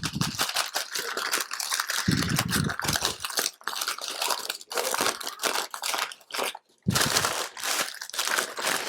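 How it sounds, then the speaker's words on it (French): Parchment paper is peeled off a freshly baked sponge cake, making repeated close, loud crinkling and crackling tears with brief pauses between pulls. "Enlever le papier sulfure. Qui est collé."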